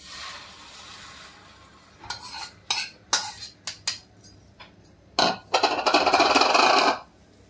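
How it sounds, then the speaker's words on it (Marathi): A spoon whisks eggs in a bowl for an egg sandwich, giving a series of sharp clinking strokes that build into a fast, continuous scraping burst before stopping abruptly. "फेटून घेऊया।"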